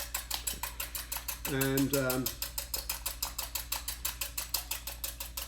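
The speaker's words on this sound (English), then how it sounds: "I'm going to try to whisk these eggs with my little whisk" Small whisk beating eggs in a bowl, fast steady metallic clicking strokes that run nearly the whole time, close and crisp, briefly interrupted by a short spoken word.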